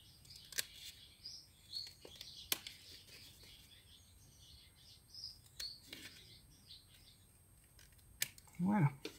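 Scissors cut paper at a bevel while making a scrapbook Easter basket, with quiet, scattered snips close by, partly under soft talk.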